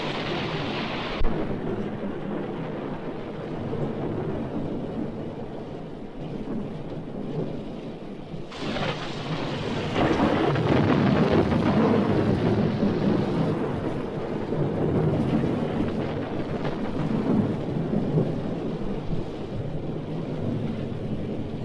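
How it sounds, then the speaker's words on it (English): A night thunderstorm in a 1972 horror film rumbles with deep rolling thunder over steady heavy rain and wind, with a loud crack midway that swells into a long, booming roll. "Storms fascinate me."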